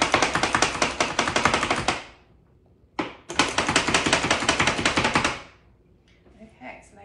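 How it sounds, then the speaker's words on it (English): Onions are chopped in a hand-operated kitchen chopper for sous vide egg bites, two loud close bursts of rapid rattling clatter, each lasting a couple of seconds, separated by a brief pause. "I'm just gonna give these a rough chop just so that they fit in here into my chopper"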